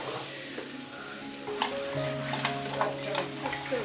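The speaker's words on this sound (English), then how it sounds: "Heat some oil and saute onion." Onion sautéing in hot oil in a home kitchen for vegetable biryani, a steady sizzle with occasional stirring clinks and a faint background tone, no speech.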